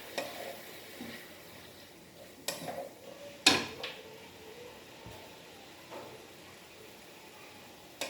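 Mushrooms fry in a pan, giving a faint, steady sizzle with occasional sharp clinks and scrapes of a utensil against the pan.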